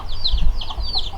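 Backyard hens in a small flock give soft, quick clucks and chirpy calls in a short burst of three or four close notes, with no talking.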